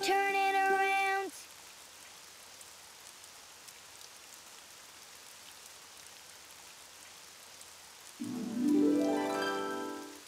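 Steady rain falls outside, a soft, even hiss with no voices, framed by brief bursts of music at the start and end.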